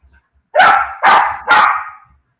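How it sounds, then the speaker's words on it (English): Dogs at play give three loud, close barks in quick succession, each lasting about half a second, with nothing else around them. "The dogs, they're playing in the background."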